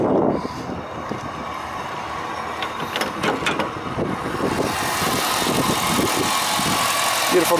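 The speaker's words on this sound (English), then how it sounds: "Beautiful Northstar V8." A 2002 Cadillac Eldorado ESC with a Northstar V8 and about 68,000 miles idles steadily nearby, a low even hum under faint voices and handling noises, with a brighter hiss building in the second half.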